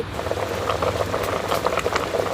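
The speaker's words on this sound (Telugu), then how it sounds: "ఇంకొక 10 నిమిషాలు అయితే మూత పెట్టి ఉడికించుకోవాలి." A goat head curry with tamarind juice simmers in a pot, giving off a close, continuous bubbling and gentle popping that keeps an even level throughout.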